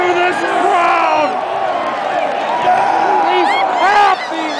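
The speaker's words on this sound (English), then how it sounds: "Listen to this crowd!" A football stadium crowd roars and whoops after Iowa beats Penn State, a loud, sustained cheer with scattered individual shouts and yells over the din.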